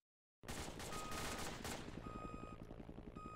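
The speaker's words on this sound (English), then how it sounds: "Shooting at me for no reason?" Dense rapid gunfire in a video game starts abruptly after a brief silence and runs as a steady automatic burst, with a repeating electronic beep cutting in over it near the end.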